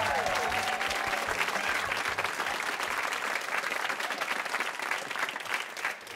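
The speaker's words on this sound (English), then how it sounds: "How about a nice round of applause?" Sustained audience applause fills the hall for two high school quiz show teams and their coaches, a dense, steady wash of many hands clapping at close range that carries on without pause.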